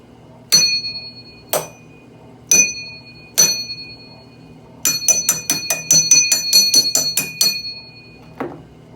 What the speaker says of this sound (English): let's go ahead and make the bell ring.